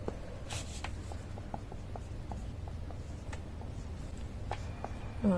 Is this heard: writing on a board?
yes